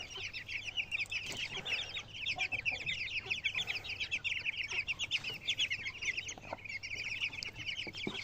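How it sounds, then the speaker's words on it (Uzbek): Chicks and chickens cluck and cheep continuously in a dense, overlapping chorus, steady and fairly close, with no voices over them. "Jo'jalarimiz."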